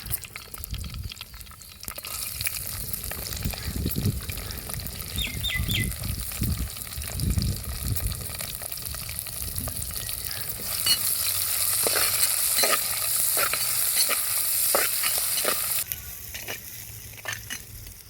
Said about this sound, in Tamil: பார்த்திங்கன்னா வெங்காயம்லாம் நல்லா வதங்கிடுச்சு.